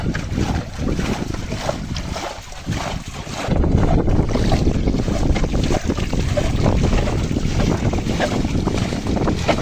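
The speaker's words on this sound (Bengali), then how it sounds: "প্রচুর পরিমাণে বাতাস নদীতে," Strong wind buffeting the microphone on a river after recent rain, a loud, rough rumble that swells after a few seconds and roars steadily on, with faint sounds from a boat beneath it.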